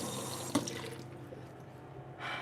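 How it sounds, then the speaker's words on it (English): Tap water runs quietly into a kitchen sink as a tomato is rinsed, a soft steady trickle with a brief splash, and no one speaking. "So I like to rinse it with water"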